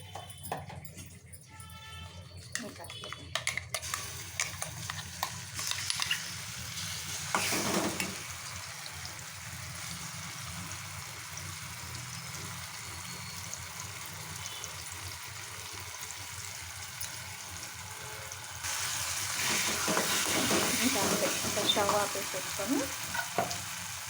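Chana dal, urad dal and dried red chillies crackle and sizzle steadily in hot oil for a South Indian tempering, with occasional stirring scrapes and a louder burst of frying near the end, no talking.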